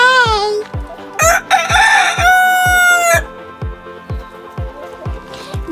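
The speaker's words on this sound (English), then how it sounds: "Okay, so these are the chickens." A rooster crows loudly and close while backyard chickens cluck, over a steady, rhythmic dripping tick in the background.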